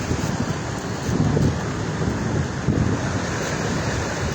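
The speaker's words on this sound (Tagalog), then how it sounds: "Tapos ang lakas ng alon." Strong surf crashing and roaring continuously on a beach, with wind buffeting the microphone; no voices.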